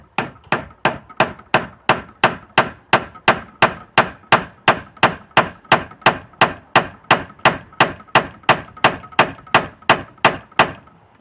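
Steady, evenly spaced hammer blows drive a dowel into reclaimed wood, about two or three per second, sharp and close, continuing for the whole stretch.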